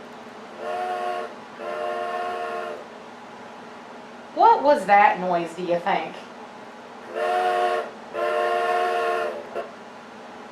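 A train whistle sounds in long, steady blasts, two before and two after a person briefly speaks in between.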